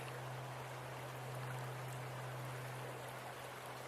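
A small creek in the Great Smoky Mountains flows steadily, a continuous broadband rush and trickle of water over rocks with a low hum beneath, even and unbroken throughout.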